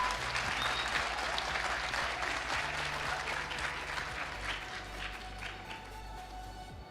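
An audience at a national ICT summit applauding award winners on stage, a dense round of clapping that fills the hall and slowly tapers off over several seconds, a faint voice in the background.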